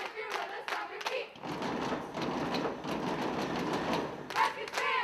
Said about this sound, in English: if you're with us, stomp your feet!